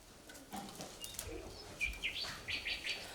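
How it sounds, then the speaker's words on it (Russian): Chaffinch song: a run of bright chirps and short descending phrases at moderate distance, with faint background noise and no talking. "Это зяблик, перелетная птица."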